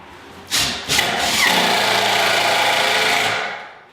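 A loud, steady electric sander whirring continuously against wood for a few seconds, starting abruptly and then winding down at the end.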